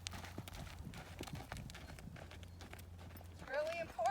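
A horse's hooves clip-clop in a steady rhythm on the ground during a serpentine riding drill while a person talks over them, and a short whinny-like sound comes near the end.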